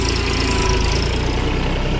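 Mahindra OJA 2130 tractor in four-wheel drive rolling along on its own with no driver, its diesel engine throbbing loudly and steadily up close in a constant even chug.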